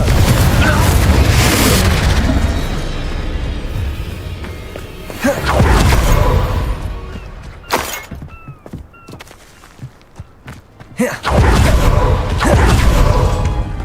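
The Incendio and Confringo fire spells in Hogwarts Legacy land as loud, booming fiery blasts with whooshing bursts, coming in three heavy surges separated by quieter stretches of scattered thuds and clicks.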